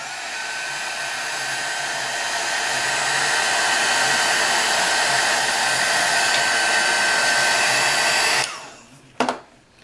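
A hair dryer blows steadily on a craft layer of an altered magnifying glass, a loud continuous whooshing whine that runs for about eight seconds before switching off with a short click.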